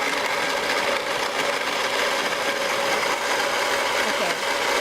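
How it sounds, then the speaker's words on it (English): A blender whirs steadily while pureeing soaked chili peppers with a little water into a smooth red mole sauce for braised beef tacos, a constant close, dense grinding drone with no pauses. "you just pop it in the blender"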